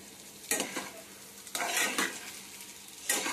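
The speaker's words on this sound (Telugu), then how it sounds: "కొంచెం గరం మసాలా, బాగా కలిపేసుకోవాలి." Garam masala being stirred into fried rice in a hot pan, with three bursts of scraping and sizzle at a steady pace, close and fairly loud over a low hiss.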